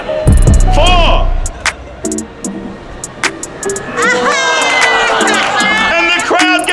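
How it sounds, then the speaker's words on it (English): A lively outdoor crowd at a street magic show cheers and shouts in bursts, with children's voices and excited talk mixed in, loud and close. "And the crowd goes crazy!"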